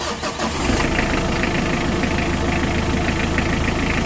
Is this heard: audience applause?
no